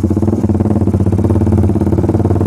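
Motorcycle engine fitted with a Mafia exhaust, held steady at around 2000 RPM, giving a loud, close, continuous throbbing drone with a fast pulsing rhythm and no break throughout.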